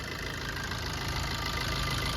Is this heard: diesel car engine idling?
yes